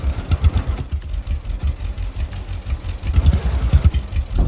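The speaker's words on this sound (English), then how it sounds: "We're gonna park the tractor." Tractor engine in Lumberjack Dynasty idling with a low, throbbing, uneven chug that pulses steadily and loudly throughout.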